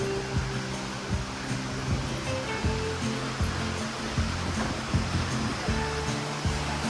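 Taughannock Falls roars as a steady, loud broadband wash of falling water, continuous and close, with low rumbling pulses under the rush and no voices.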